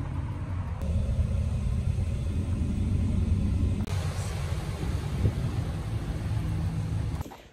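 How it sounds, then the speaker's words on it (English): A car rumbles nearby in a steady low drone that holds through the whole stretch, with no talk over it. "And there's a car somewhere."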